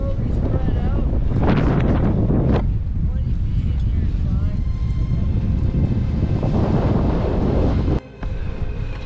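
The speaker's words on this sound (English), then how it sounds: "it's getting pretty windy" Strong wind buffets the microphone with a loud, continuous roar while backcountry skiers in Canada talk underneath.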